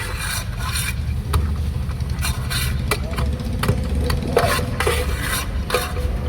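Cashews, almonds and chickpeas being stirred together in a pan for a dry fruit jam, giving steady scraping and rattling with a faint sizzle over a low continuous hum.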